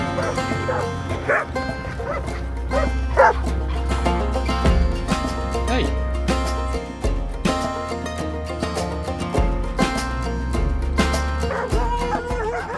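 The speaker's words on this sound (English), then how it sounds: "these dogs only bark when you're driving and not when you're stopping" Several dogs bark loudly and repeatedly along a road in the Balkans as a vehicle drives past, the yaps and woofs close and overlapping above a steady low engine rumble.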